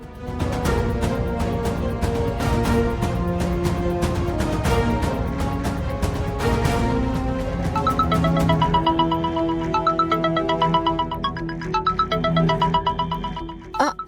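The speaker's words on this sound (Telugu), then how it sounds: "ఆద్య, ఎవరో ఫోన్ చేస్తున్నారు" A melodic phone ringtone plays loudly and continuously, a repeating electronic tune that shifts pattern partway through.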